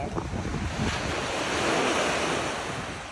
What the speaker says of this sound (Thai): เวลาคลื่นมันซัดขึ้นมา